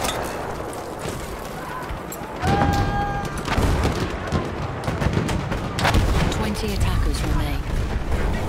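A grenade blast erupts in Battlefield 1 amid ongoing gunfire and artillery, with a heavy low boom at its onset and loud, continuous battlefield noise afterward.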